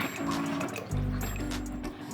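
Cold water from a bottle poured into a sharbat mixture with chopped almonds and pistachios, a short close splashing pour in two bursts with a gurgling fill.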